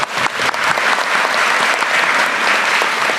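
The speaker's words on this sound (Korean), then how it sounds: "여기 박수 안 쳐주면 소소하겠죠?" A hall audience at a Korean government briefing breaks into loud, dense applause, a full steady wash of clapping that holds evenly for a few seconds.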